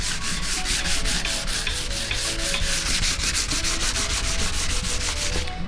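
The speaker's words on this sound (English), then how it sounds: "if I have to stand here and sand this guard" Hand sanding of an Evo guard, a steady rhythmic scraping of abrasive paper pushed back and forth in quick even strokes, loud and close with no talk.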